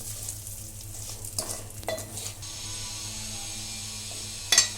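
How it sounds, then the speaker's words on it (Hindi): Broken wheat dalia dry-roasting in a pan over medium-low heat, stirred constantly, gives a soft steady sizzle with light scraping, rising in a few brief louder clinks near the end; no voices. "ये मीडियम स्लो आंच पे मैंने इसको लगातार चलाते हुए दलिये को थोड़ा इस तरह से गुलाबी होने तक अच्छे से भूंज लिया है"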